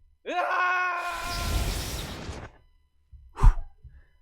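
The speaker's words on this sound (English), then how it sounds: "That wasn't actually me screaming. That was the void screaming back." In the Bramble.Live metaverse, a void screams back: a rising groaning, moaning voice swells into a breathy roar, stops abruptly, then a short sharp burst follows after a pause.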